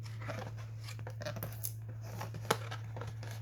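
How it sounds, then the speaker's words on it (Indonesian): Scissors snip at tough, stiff toy packaging strings during an unboxing, giving faint crinkly cutting and tearing sounds with one sharp snap near the end over a steady low hum. "Kita coba gunting satu dulu."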